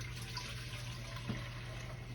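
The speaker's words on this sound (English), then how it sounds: "Now, I'm gonna take this liquid, I'm gonna pour it in this pot here" Braising liquid for an old-school braised beef brisket pours into a pot in a steady, soft splashing trickle with a low kitchen hum underneath and one brief clunk partway through.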